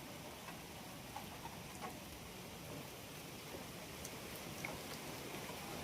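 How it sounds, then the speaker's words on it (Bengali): Night rain falls as a steady, even hiss of drops with occasional faint ticks, soft and constant throughout with no voices. "বৃষ্টি পড়ছে"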